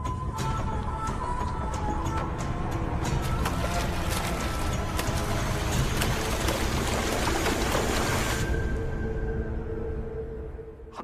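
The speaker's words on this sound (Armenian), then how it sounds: "Այնուհետև երկնքից սկսվեց հսկայական կարկուտ թափվել։" Heavy hail pours from the sky in a dense, steady patter with sharp scattered impacts for about eight seconds, then fades away.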